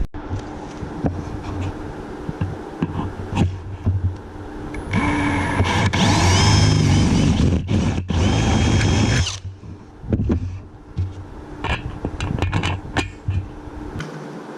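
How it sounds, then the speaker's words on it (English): A power drill whirs in several bursts while drilling through wood to mount solar panels on a van, with one long, loud stretch of drilling in the middle and shorter spurts around it, close by. "So while I'm drilling through, I won't blow through and hit the panel."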